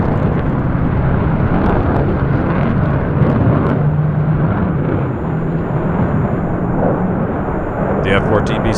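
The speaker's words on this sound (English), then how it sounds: "The F-35A in full afterburner catches up and makes it even through point 3." An F-35A in full afterburner and an F-14B jet turning hard: a loud, continuous roaring jet thunder that fills the whole stretch, with a narrator talking over it.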